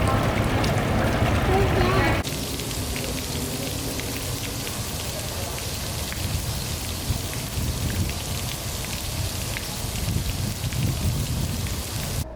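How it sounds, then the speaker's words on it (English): Steady rain falls outdoors in a continuous, dense patter on surfaces, fairly loud and close, with a brief heavier burst at the start before settling into an even downpour. "It is raining a bit, so I may move inside."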